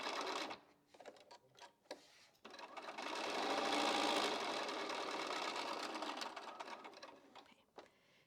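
Quilt block pieces are stitched on a sewing machine: a few short starts and ticks, then a long continuous humming run that fades out, fairly quiet.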